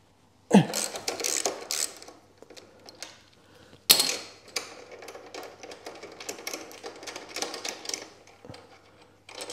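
A 12mm ratchet socket wrench backs out a bolt on a Royal Enfield Classic 350 motorcycle. Close, crisp clicking and metallic ratcheting comes in bursts, with a sharp knock partway through.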